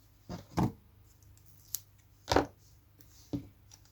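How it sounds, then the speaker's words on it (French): Scissors snip double-sided tape in a paper-craft card-making setup: a few quiet, separate cuts spread over a few seconds in an otherwise still room. "Une paire de ciseaux."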